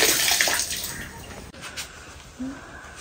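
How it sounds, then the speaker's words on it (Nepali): Water pours and splashes during washing, loudest at the start and then easing into softer trickles and small splashes, with faint household sounds and no clear speech. "फेरि अर्को पानी पखाल्नु पर्छ र"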